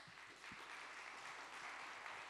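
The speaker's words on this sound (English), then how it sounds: "So a big round of applause for you guys for coming out." Conference talk audience giving a round of applause, with steady, fairly quiet clapping from a seated crowd filling the moment and a few faint low thumps.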